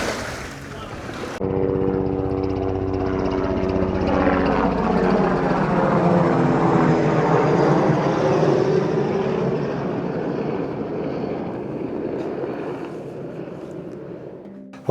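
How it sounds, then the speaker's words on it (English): An electric propeller motor on a Temu water bike runs with a steady whirring drone over water, loud and continuous, holding for most of the stretch before cutting off near the end. "Well, at least the propeller on that thing worked."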